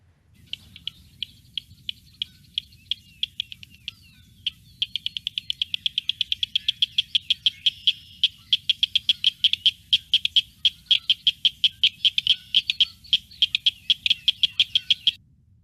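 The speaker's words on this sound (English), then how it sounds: "So that's our cricket frog here in Ohio." An Ohio cricket frog calls with a long series of sharp, dry clicks, sparse at first and then quickening into a rapid, steady rattle, close and clear over a quiet night background.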